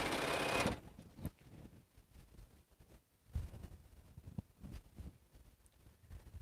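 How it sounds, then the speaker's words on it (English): A sewing machine stitching quilt strip sets together runs in a loud burst at the start, then softer intermittent stitching and fabric handling follow, close by and without talk. "So I'm basically just sewing strip sets together."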